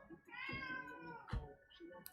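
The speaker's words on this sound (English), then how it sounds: "Why meowsing? So much meows." A domestic cat meows twice nearby, a drawn-out tonal cry followed by a shorter one, fairly clear against a quiet room.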